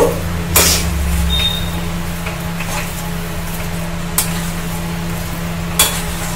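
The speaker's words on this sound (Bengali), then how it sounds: "সুন্দর করে এটাকে মিশিয়ে দেব।" A green banana chop mixture is stirred in a hot pan, a steady close sizzle running throughout with a few sharp scrapes of the utensil against the pan.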